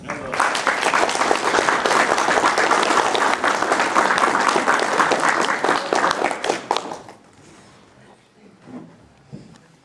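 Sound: audience applause welcoming guest Piotr Nagiel to stage

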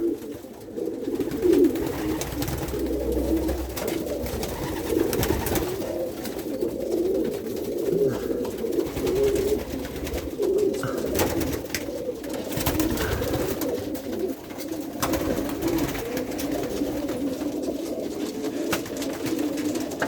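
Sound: pigeons cooing in a loft

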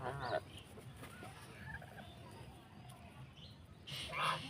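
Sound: geese

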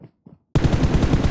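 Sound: gunfire in a video game

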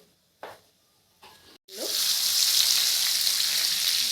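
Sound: turmeric and cumin frying in oil

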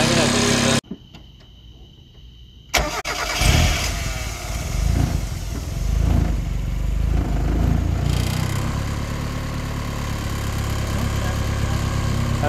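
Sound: Mazda Miata engine starting and idling after VAG R8 coil pack conversion

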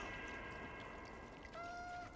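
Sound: cat meowing in video game Stray

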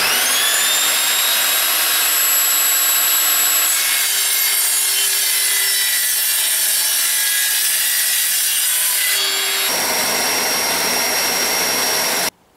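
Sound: Evolution Rage 5-S table saw cutting aluminium

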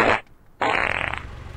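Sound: fart

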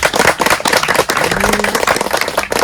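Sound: audience applause

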